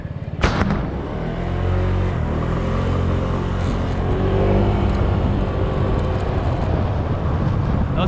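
Heavy garbage trucks rumble and rev near a row of dumpsters, a loud sustained low engine drone with a sharp bang near the start, continuous for several seconds without talk.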